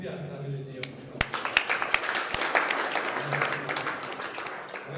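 A church congregation at a New Year prayer evening breaking into applause and cheering, a dense wash of clapping with sharp individual claps, swelling and continuing, with voices mixed in.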